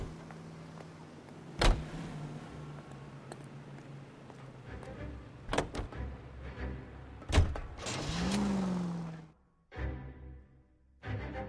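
Video game L.A. Noire: a car interior with a low engine hum, sharp door slams and clunks, a whirring power window, then the engine cutting out and a brief start again, no talk.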